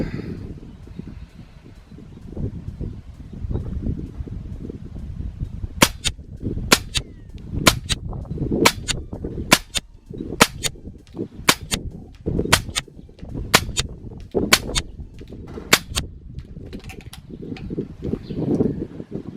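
Air rifle firing H&N 27-grain slugs at a 100 m target in gusty wind: about a dozen sharp, evenly spaced cracks over several seconds, each standing out above a low, rumbling rush of wind.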